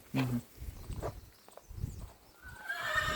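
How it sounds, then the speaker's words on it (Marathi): A five-month-old horse foal gives a short low snort, then a high, quavering neigh rises toward the end, fairly close amid faint background noise. "त्या घोड्याचा बच्चा आहे तो."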